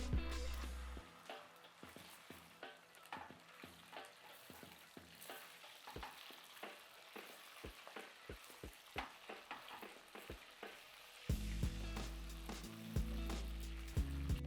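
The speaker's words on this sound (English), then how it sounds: "the oil heats up to about 300 Fahrenheit, drop in the shrimp" Shrimp and then celery go into oil heated to about 300°F for kung pao shrimp, producing a soft, steady sizzle broken by frequent sharp taps and scrapes as they are stirred apart, quiet and close, with no speech.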